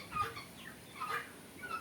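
Chickens and young chicks on a poultry farm give faint, scattered clucks and soft peeping calls, in short bursts over quiet background noise.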